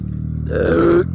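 A single loud, drawn-out burp after drinking Coca-Cola, close and deep, lasting about a second.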